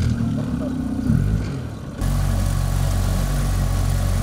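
A rescue service boat's engine runs with a steady low drone, idling at first and then louder and fuller from midway, continuous and close, with no talking over it.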